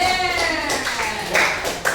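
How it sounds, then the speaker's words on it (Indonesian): Classmates in a school classroom give a brief round of hand clapping for students who answered, heard close and mixed with a teacher's voice and children's chatter. "Tepuk tangan untuk teman-teman yang sudah menjawabnya."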